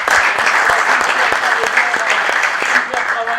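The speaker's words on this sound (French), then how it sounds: "Est-ce qu'on peut applaudir pour le président de la Ligue provinciale?" Dense, steady applause from a crowd at a basketball league event in a gymnasium, honoring the provincial league president, loud and continuous throughout with a few voices faintly mixed in.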